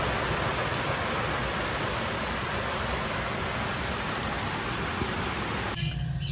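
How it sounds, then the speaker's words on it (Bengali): Heavy rain falling all day, a dense, steady roar of water close by that runs unbroken until it thins out abruptly near the end. "সারাটা দিন ধরে শুধু বৃষ্টিই হয়ে যাচ্ছে, বৃষ্টি আর কমার নাম করছে না।"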